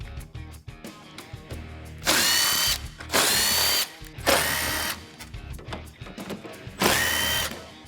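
A power tool whirs in four loud bursts of about a second each, separated by short pauses, as it removes T40 Torx bolts from the light bar bracket on a Jeep Wrangler JK.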